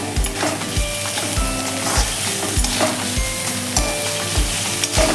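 Ridge gourd pieces are stirred into a sizzling chutney in a pan, with steady frying hiss underneath and regular scraping strokes of the spatula, close and fairly loud.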